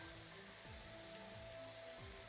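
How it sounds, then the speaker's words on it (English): Steady rain falls through a night scene in the video game Psychedelica of the Black Butterfly, a dense continuous hiss with soft patter, no voices, and faint low rumbling tones beneath. "Instead, all I hear is the sound of the rain."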